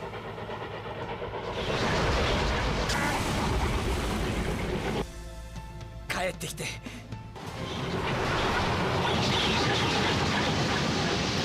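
An anime train rumbles loudly past with rattling, clattering wheels, a sharp metallic screech and clatter breaking in midway before the heavy roar resumes.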